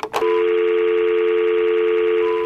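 A telephone gives a steady electronic tone that starts after a short click and holds loud and continuous throughout.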